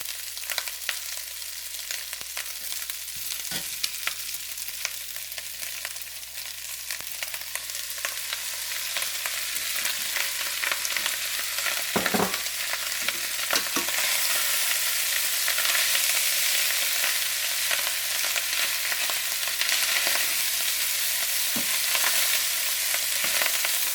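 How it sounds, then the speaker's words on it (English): Chicken garlic fried rice sizzles in a pan after melted butter is poured in, a continuous bright hiss that grows louder and fuller partway through, with a few faint knocks and no voices. "And now we're going to add the 4 tablespoons of melted butter."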